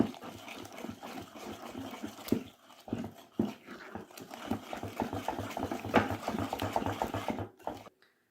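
Cake batter for a chocolate cake stirred in a bowl just after three eggs go in, a steady run of wet scraping and sloshing strokes, close and moderately loud, with a few sharper knocks, no talking.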